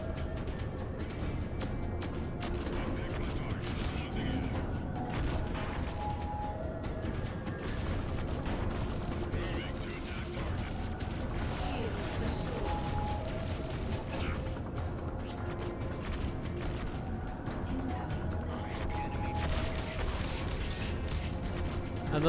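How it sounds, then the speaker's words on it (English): Bombing run in the space sim game Freelancer, with a steady mechanical drone broken by repeated sharp impacts and crackling blasts at irregular intervals, faint voice in the background. "A little bombing run there."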